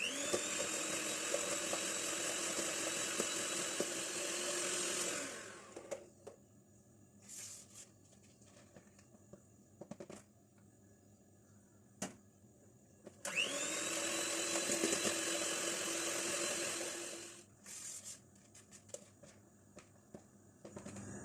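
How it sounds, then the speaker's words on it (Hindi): Electric hand mixer beating butter with ground brown sugar, whirring steadily for about five seconds, stopping, then running again for another stretch with quieter clatter in between. "इस ब्राउन शुगर को हम इसमें थोड़ी थोड़ी करके डालेंगे और मक्खन के साथ इसको बीट कर लेते हैं।"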